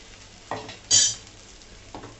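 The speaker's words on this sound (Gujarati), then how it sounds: "આપણે ધીમા ગેસે અને બ્રાઉન થાય ને એ રીતના આપણે એને શેકવાના છે" Bottle gourd pieces roast in a pan over low gas, giving a faint steady sizzle with a few soft stirring scrapes and clinks of a utensil, all close by with no talking.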